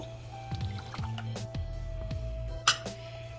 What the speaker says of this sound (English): Now what we're going to do is put in a cup of whole milk.